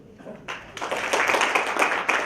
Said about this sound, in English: Welcome. Warm round of applause.